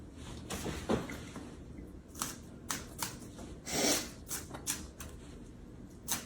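A knife chops green onion finely on a cutting board in a home kitchen, sounding as a series of quiet, uneven taps and scrapes spread across a few seconds.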